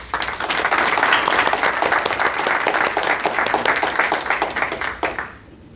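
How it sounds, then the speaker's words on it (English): A room of people at a county board of education meeting applauds steadily for about five seconds, a dense, even wash of clapping that cuts off sharply near the end. "So y'all will join me in giving her a round of applause."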